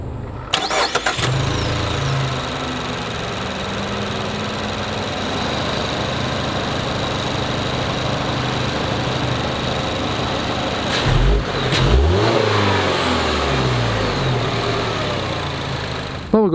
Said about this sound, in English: to start this car, similar to the Jeep, you just hit the brake, hit the button over here to start.